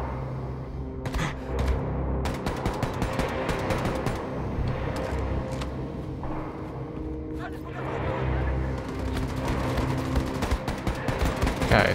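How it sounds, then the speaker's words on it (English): Rapid bursts of enemy gunfire aimed at the player in Wolfenstein II: The New Colossus on Nintendo Switch, loud and repeated in sharp clusters over a dense game backdrop, with someone talking over it. "Shooting me right now."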